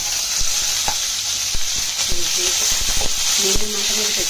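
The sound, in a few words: onions, green chillies and curry leaves frying with dried shrimp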